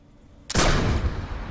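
A single sudden blast of gunfire in PlanetSide 2 while shooting targets with aimed sights, close and loud, then trailing off into a short rumbling decay.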